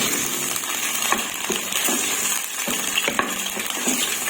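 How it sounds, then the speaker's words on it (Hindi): Garlic sizzles in hot oil with chicken for a Chicken Manchurian while a spoon stirs through it, a constant frying hiss broken by repeated light clinks and scrapes against the pan. "लहसुन डालने के बाद इसको अच्छे से मिक्स करेंगे ताकि हमारा लहसुन थोड़ा सा भुन जाए।"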